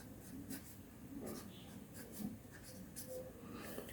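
Pen or marker strokes on paper or a board while working out common factors in a sixth-grade maths lesson, a quiet run of scratchy strokes with short pauses and no talk over it.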